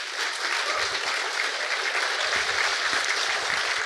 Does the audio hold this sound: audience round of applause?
yes